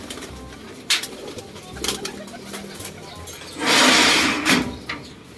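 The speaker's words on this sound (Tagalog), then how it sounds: "Saglit lang naman kung lumipad tong mga ibon natin to." Pigeons being released to fly coo softly nearby, then a sudden loud burst of flapping wings erupts as the flock takes off, followed by a few lighter flaps.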